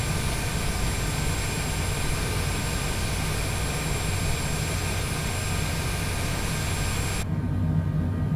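Jet engines of a large Longitude business jet at Pocatello airport, ID, a steady, loud, close roar holding evenly throughout and easing slightly at the end.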